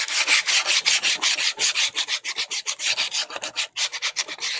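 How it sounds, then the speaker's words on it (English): Hand sanding along the edge of a wooden board to round it over, a rhythmic run of close, raspy back-and-forth strokes, each a short scratchy swish with no talking. "I'm going to sand it"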